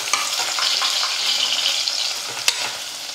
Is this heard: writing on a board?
no